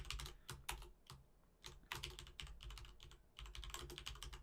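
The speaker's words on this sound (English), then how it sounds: "Typing." Fingers tap steadily on a computer keyboard close by, in quick clustered keystrokes with brief pauses between bursts.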